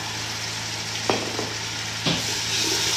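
Garlic and ginger fry in a pan with a steady sizzle, and a couple of short stirring scrapes break in over it.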